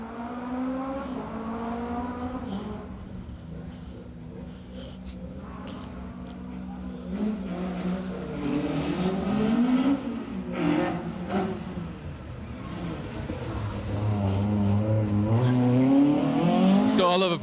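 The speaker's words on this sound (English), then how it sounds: "Got a love a Peugeot 306 on the stage, right?" A Peugeot 306 rally car on an asphalt stage of the Manx Rally on the Isle of Man, engine rising and falling through gear changes as it approaches and passes, with a commentator talking over it.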